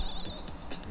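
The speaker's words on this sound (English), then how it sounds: "It's that sheep Pokemon." The Mareep sheep Pokémon in the Pokémon Channel video game gives a short, high bleating cry, a single call heard alone at close range.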